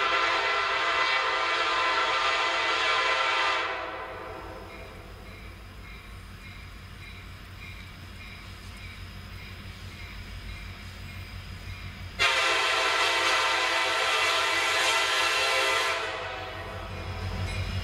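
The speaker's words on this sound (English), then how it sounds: "we'll take the train down there" A train rolls past with a long, loud horn blast at the start and another near the end, the steady rumble of rail wagons filling the quieter middle stretch.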